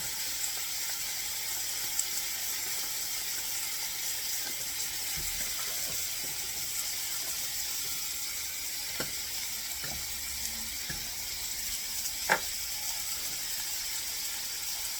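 Cheese melting into dressing in a pan over medium heat while being stirred, giving a soft continuous sizzle with occasional faint scrape clicks and no talk.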